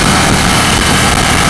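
A KTM 790 V-twin motorcycle engine pulls hard in a roll-on, a loud, dense, close drone with wind rush over it, steady and without pauses.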